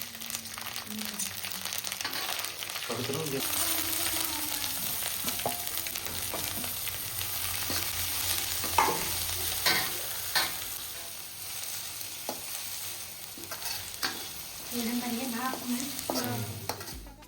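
Chopped green chili and ginger-garlic paste fry in hot oil in a kadhai, crackling and sizzling steadily up close, with repeated scraping and stirring, a few sharp pops, and someone talking now and then over it.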